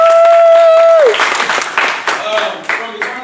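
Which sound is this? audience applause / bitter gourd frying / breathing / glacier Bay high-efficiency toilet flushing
audience applause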